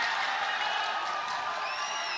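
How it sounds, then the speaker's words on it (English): A boxing crowd roars and cheers after a body shot in a professional bout, a steady wash of arena noise with faint whistles and whoops. "Crowd coming to life."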